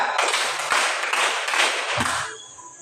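A classroom of students claps together in a counted concentration routine, a dense, loud burst of many hands that stops abruptly near the end, leaving a quieter tail.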